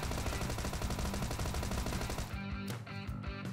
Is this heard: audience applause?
no